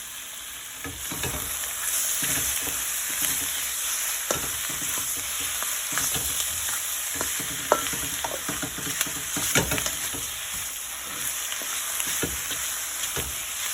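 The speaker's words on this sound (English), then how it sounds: "So now we're gonna saute these shrimp, give them a nice little saute." Shrimp sizzle steadily in a hot pan, with a utensil stirring and scraping against the metal every few moments.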